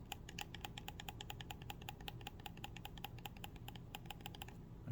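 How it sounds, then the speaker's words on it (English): Thumbsticks on an Xbox Elite Series 2 controller being clicked: a quick, steady run of sharp, light plastic clicks at close range, quiet overall with a faint background hum. "And this is the Elite Series 2, listen."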